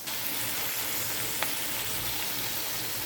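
Shredded cabbage hitting a hot, oiled pan while spaghetti is being made gives a constant broad, hissing sizzle with a single brief clink partway through.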